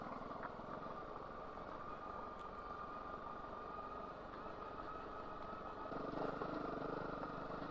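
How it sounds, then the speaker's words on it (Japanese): A Honda CRF250 Rally 250cc motorcycle engine climbing an off-road uphill trail, a steady droning hum that grows louder and rougher near the end, heard alone. "この CRF の 250cc のエンジンって、私はどっちかというとこう スムーズに回転上昇していくという感じで"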